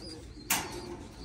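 Racing pigeons newly shipped to a loft coo faintly in a brief snippet, with a sudden soft rustle near the middle.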